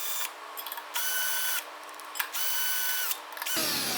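A power drill whirs in repeated bursts of about half a second to a second while tightening bolts on a circular table base, pausing briefly between runs, with a final lower mechanical rattle.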